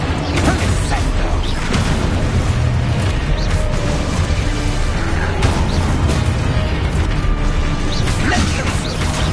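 Heavy magical slam of the Descendo spell in a video game, a dense continuous roar of rumbling, grinding and creaking impacts, loud and close throughout.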